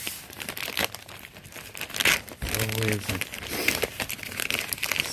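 Cardboard shipping box from a pallet of uninspected returns being cut and opened, with crinkling, tearing and rustling of packaging up close, broken by a short low scraping or thud, while someone talks over it.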